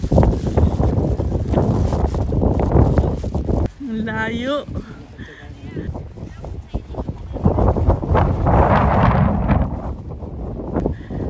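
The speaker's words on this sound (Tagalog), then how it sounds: "Hangin. Lakas kasi taas kasi ito ng bundok." Strong wind buffets a mountain top above the sea, a steady loud broadband rush with gusts, while people talk briefly over it.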